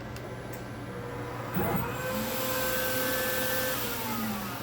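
An ADA braille engraving machine runs with a steady mechanical hum and faint whining tones that rise and shift, plus a brief louder clunk early on, close by and without talking.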